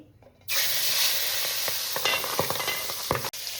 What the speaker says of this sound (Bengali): এবার তেলের মধ্যে মাছ আমি দিয়ে দিচ্ছি